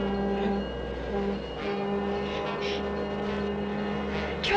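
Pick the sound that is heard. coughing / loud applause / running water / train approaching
train approaching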